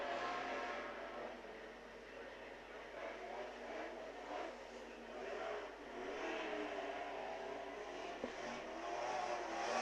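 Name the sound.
speedcars racing hot laps on track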